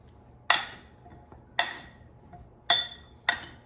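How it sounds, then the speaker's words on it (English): Air fryer gnocchi tossed with olive oil in a bowl gives four sharp clinks, evenly spaced, with quiet gaps between them. "So toss it so it's coated with olive oil."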